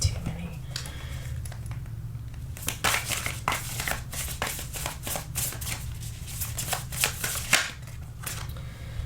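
Tarot cards being shuffled in a series of quick, crisp riffling bursts and card slaps, close and fairly loud, with a low steady hum underneath throughout.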